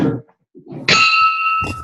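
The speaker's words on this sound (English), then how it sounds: "we'll ring the bell" A small handheld bell is rung once, giving a bright, sustained ring that fades slowly, with brief bits of talk before it and a shuffle near the end.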